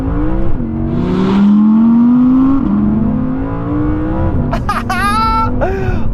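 Audi R8 rear-wheel-drive engine revving hard toward high rpm, a loud, close wail that climbs steadily, drops with gear changes, then rises sharply again near the end.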